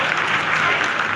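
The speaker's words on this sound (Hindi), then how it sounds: "Lot of applause indicates that till now the performance has been nominal." Loud sustained applause in mission control during the Chandrayaan-3 lunar landing, a dense close roar of many hands clapping with a faint crowd murmur.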